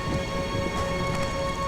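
Heavy rain pours down in a steady, dense hiss, unbroken and fairly close, with no voices over it.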